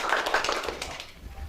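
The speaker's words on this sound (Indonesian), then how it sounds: "Tepuk tangan." A classroom audience applauds in a lesson, giving a short burst of scattered, moderately faint clapping that thins and fades out within about a second.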